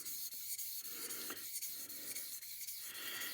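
A straight razor is honed on a natural sharpening stone, giving soft rhythmic rasping strokes that sweep back and forth about once a second, close and quiet, with no voices.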